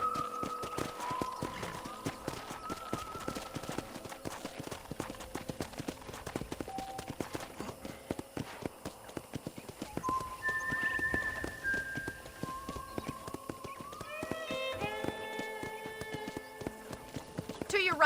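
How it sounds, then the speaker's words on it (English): Steady hoof clip-clops of a horse walking in the video game Red Dead Redemption, moderately close, under continuous music with intermittent talking voices. "let's see if you can still ride a horse"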